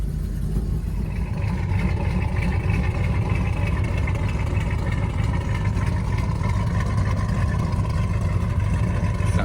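A 1971 Dodge Super Bee's engine runs at a steady, rumbling idle, loud and close with a constant deep throb and no breaks.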